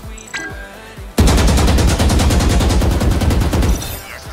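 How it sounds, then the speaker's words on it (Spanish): Continuous automatic gunfire in Valorant's training range: a rapid, evenly spaced burst of loud shots lasting about two and a half seconds, preceded by quieter weapon handling clicks. "Impacta el blanco central con disparos continuos."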